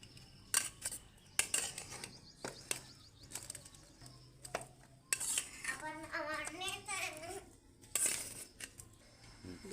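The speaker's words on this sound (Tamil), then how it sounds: "இப்போ இறக்கி சாப்பாடு வடித்து வச்ச சாப்பாடு எடுத்து போட்டு கிண்டிடலாங்க" Cooked rice being stirred into a pan with a metal utensil, giving repeated scraping and clinking strikes against the pan, with faint background sounds in a home kitchen.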